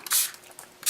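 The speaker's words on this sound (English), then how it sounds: "Some of these aren't going to spray." Spray ink in South Shore Sand misted onto a fall-themed journal page, two short hissing spritzes at the start and end, close and fairly loud.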